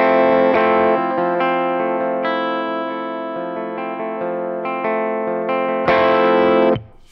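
Electric guitar through a compressor pedal, sustained chords and notes with an even, squeezed level and long ringing decay, close and loud, ending with a fresh strummed chord that is cut off abruptly.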